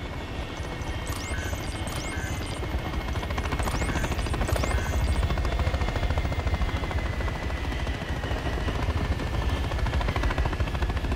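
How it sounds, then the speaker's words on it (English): Helicopters in the shooter game Call of Duty Modern Warfare III, a constant heavy rotor drone with bursts of gunfire crackling over it early on. "Target those helos, Six."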